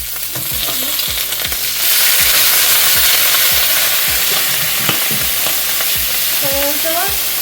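Pork stir-fried in a wok with cooking wine just added gives a loud, steady sizzle, broken by repeated scraping strokes of a spatula, with no one talking.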